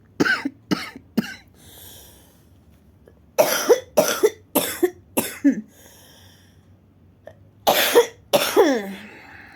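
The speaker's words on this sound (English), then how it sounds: "please excuse the coughing." Bursts of harsh coughing at close range from a person during a crochet session, coming in clusters of three to five hacks with quiet pauses between groups.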